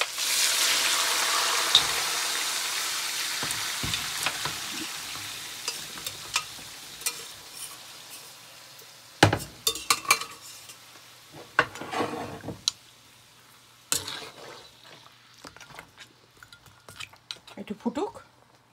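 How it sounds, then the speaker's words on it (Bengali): Chunks of meat hit a hot karahi for karahi gosht with a loud, broad sizzle that slowly fades, followed by scraping stirs and metal clatters of a utensil against the pan. "এখন এই পুরো মাংসটা দিয়ে দেবো"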